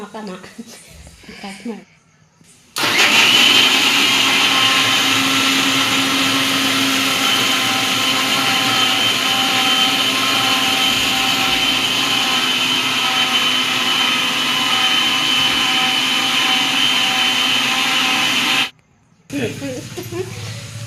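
Electric kitchen blender running steadily for about sixteen seconds while mixing muskmelon and milk into juice, a loud continuous whirring hum that starts and stops abruptly, with brief talk before and after.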